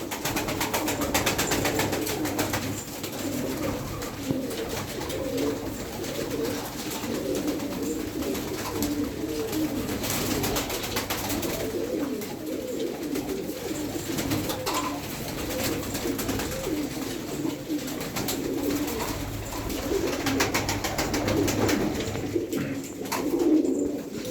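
Many pigeons cooing continuously, overlapping soft throaty calls from a flock nearby, with no talking.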